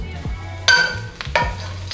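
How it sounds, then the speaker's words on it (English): Garlic sizzles in a hot pan, with a few scraping stirs breaking up the steady fry across two seconds, close and clear with no talking. "let me give my garlic a stir because it's looking a little toasty in here"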